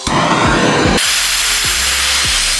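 Steady broadband roar of a torch flame heating aluminum stock before brazing on a 12-foot jon boat center console build, loud and continuous for the whole stretch, with a few faint low clunks underneath and no talking.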